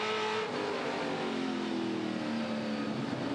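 Touring Car Masters race cars at Adelaide, an engine droning steadily under load with rising pitch as it accelerates, heard continuously and fairly close, like onboard engine noise, with no voices.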